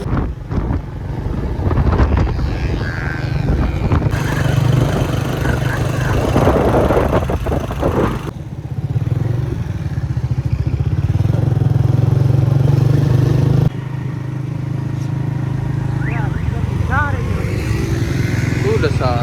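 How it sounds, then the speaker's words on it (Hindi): A new motorcycle rides on an open road at a gentle pace, its engine a steady low hum mixed with heavy wind buffeting on the microphone, while a rider talks over it throughout. "मोटरसाइकिल भगा भी नहीं सकते, न्यू मोटरसाइकिल है, आहिस्ता आहिस्ता चलाएँगे"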